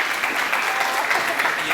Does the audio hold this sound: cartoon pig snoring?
no